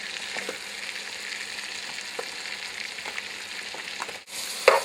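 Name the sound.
vegetables and mushrooms sautéing in a pan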